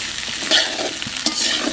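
A spatula stirs chopped olives frying in oil in a wok, quick scraping strokes over a constant near sizzle, with no one speaking.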